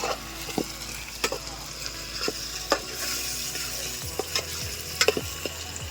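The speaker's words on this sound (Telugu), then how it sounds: "ఇక టమాటా ముక్కలు వేసుకొని మంచిగా కలుపుకుందాం" Spoon scraping and stirring in a pan as tomato pieces are mixed into fried onions for Telugu fish curry (chepala pulusu), with soft frying sizzle underneath and several sharp metallic clinks spaced through the stir.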